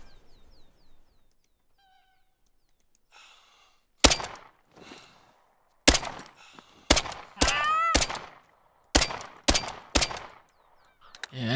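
Pistol and shotgun gunshots from The Hunter: Call of the Wild, a .22 pistol and a mini shotgun, fire as a series of sharp, loud reports with short echoing tails, irregularly spaced over several seconds after a quiet stretch.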